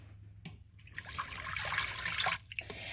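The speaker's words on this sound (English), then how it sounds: "You want to put a cup of water" Water poured steadily from a cup into the bottom of an Instant Pot for pressure cooking, a gentle splashing stream lasting about two seconds, fairly faint with no talk.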